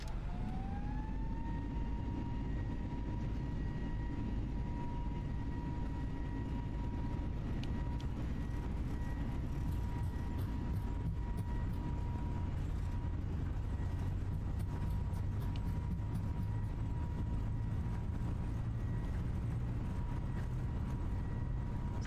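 Airbus A320 jet engines spooling up to takeoff thrust in Microsoft Flight Simulator, a steady loud roar with a rising whine that settles into a constant tone, heard from inside the aircraft.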